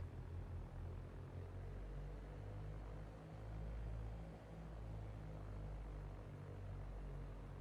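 A Cessna 172 engine hums at low power while the plane taxis along a runway in X-Plane 11, a steady faint droning rumble with no voices.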